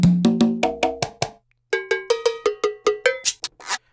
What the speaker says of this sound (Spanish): Y pues también programé la percusión.